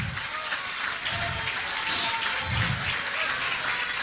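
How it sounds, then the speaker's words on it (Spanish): Louder burst of congregation applause inside a church, many people clapping hard in a continuous roar that stays strong throughout, with faint voices under the clapping. "Más fuerte aplauso."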